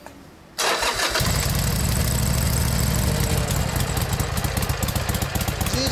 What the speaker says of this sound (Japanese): ほんならパパさんからエンジン音聞かせてもらえますか？